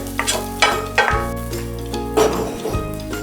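A cornbread stuffing mixture is stirred in a pan, several loud scraping, clinking spoon strokes over a soft sizzle in quick succession, close up.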